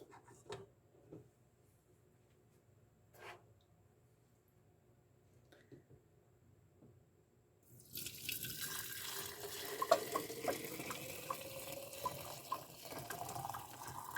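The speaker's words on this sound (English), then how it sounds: "while I pour the tea in here" Quiet small clinks and drips, then a steady stream of boiling sassafras tea pours continuously into a glass jar, rising in pitch as it fills.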